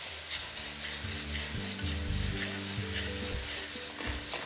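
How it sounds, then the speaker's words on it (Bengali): Chopped onion sizzling in a pan as ginger-garlic paste is stirred through it, a steady frying hiss over scraping stir strokes, close up with no talking. "যখনই দেখবেন পেঁয়াজটা ঠিক এরকম হয়ে গেছে তখন এখানে দিয়ে দিতে হবে আদা রসুন বাটা"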